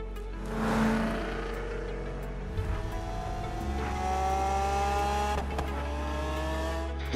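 Cars driving in Forza Horizon 3 on the way to an Australian festival site, with a steady engine drone that climbs in pitch through the gears and rises and falls as the cars accelerate.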